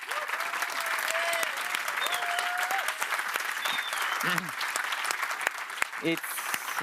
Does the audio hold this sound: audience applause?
yes